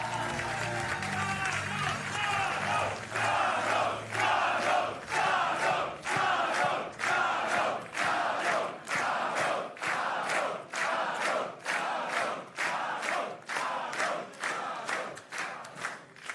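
A large crowd at an election night event for Karol Nawrocki in Poland cheers and applauds, then breaks into loud rhythmic chanting and clapping with steady regular beats, sustained throughout.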